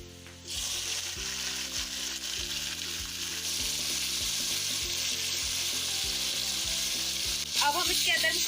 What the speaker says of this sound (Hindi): अब हम इसमें डालेंगे अदरक लहसुन का पेस्ट।